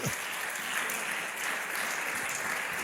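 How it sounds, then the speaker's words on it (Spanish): A church congregation claps steadily in a dense, even wash of applause that holds at full strength throughout without a break. "Da un aplauso a Cristo"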